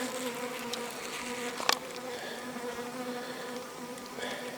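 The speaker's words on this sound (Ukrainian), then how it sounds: "бджолки лупашуть шершня не гірше, аніж мої ловушки" Dense buzzing of many honeybees attacking a hornet hums steadily throughout, with a brief sharper flurry of wingbeats partway through.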